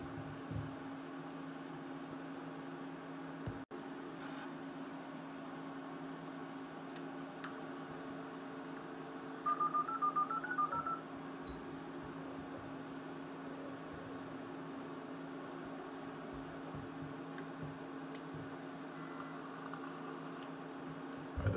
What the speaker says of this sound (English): If everything works as it should start dialing up on the modem.